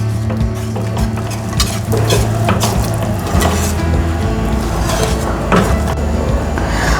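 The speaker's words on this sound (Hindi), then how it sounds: "अब मैं ऑल पर्पस फ्लोर और सब चीज़ों को अच्छी तरह मिक्स कर लूँगी।" A spoon stirs all-purpose flour into a mixture in a pan for mac and cheese with the flame just switched off, giving a steady, continuous scraping and soft sizzle with occasional utensil clinks against the pan.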